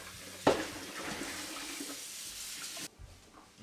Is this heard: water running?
yes